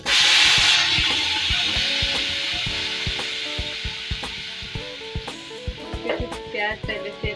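Curry leaves, spices and cumin hit hot oil with a loud burst of sizzling that slowly settles into a steady hiss, while a spoon clatters against the pan in a series of close knocks.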